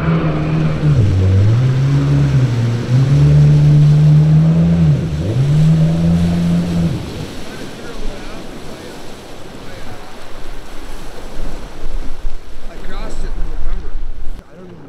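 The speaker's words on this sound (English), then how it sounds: "Still a jet boat." A jet boat on the Red Deer River near Innisfail drones loud and close, its engine pitch dipping and rising for about seven seconds before fading into rushing water and gusting wind noise.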